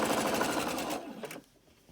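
Sewing machine stitching two layers of fabric along a 1 centimeter seam, a steady close whirring run that stops abruptly partway through, leaving near quiet.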